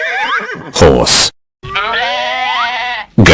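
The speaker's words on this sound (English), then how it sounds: "Goat." A goat bleats close by, a long, wavering, quavering cry set between short harsh noisy bursts, with a brief silence in the middle.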